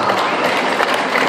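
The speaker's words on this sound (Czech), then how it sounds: "Tak děkuju za potlesk." Crowd applause at a motor show, a brief, dense burst of clapping that stays steady and fairly close throughout.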